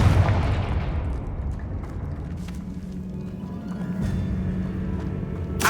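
A Confringo fire spell blasting in the video game Hogwarts Legacy opens with a heavy low boom, then settles into a lingering rumble with a few sharp crackles.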